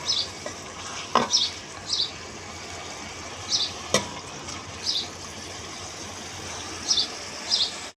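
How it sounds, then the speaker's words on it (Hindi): Onions frying in a pan until golden for mash daal, a soft continuous sizzle broken by a few short bright stirring scrapes and one sharp utensil knock, close and with no talking. "प्याज को सुनहरे होने तक भून लेंगे ताकि इसका कलर हो जाए गोल्डन"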